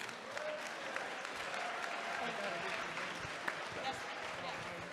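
Audience clapping fills a town hall on immigration in Chicago, a dense steady wash of applause with a few sharper claps standing out, and faint voices mixed in underneath.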